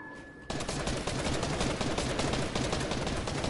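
Dense rapid gunfire from a battle-royale style video game starts abruptly after a brief quiet moment and continues as sustained bursts to the end.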